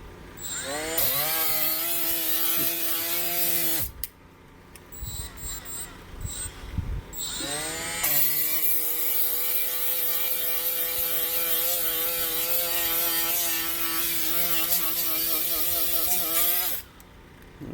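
A Milwaukee M12 right angle die grinder runs at speed 1 with a high, steady motor whine. It spins up, cuts off briefly, then runs again for a long stretch before stopping, close and loud.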